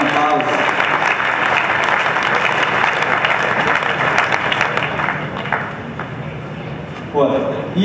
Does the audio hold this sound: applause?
yes